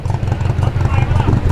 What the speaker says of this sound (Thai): นี่เสียงเดินเบารถพ่อเขา